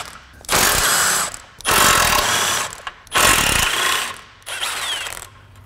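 A power tool or ratchet spins out 14 mm fasteners on a 2003 Honda Pilot during powertrain removal, four loud bursts of whirring and ratcheting separated by short pauses, close by with no talk.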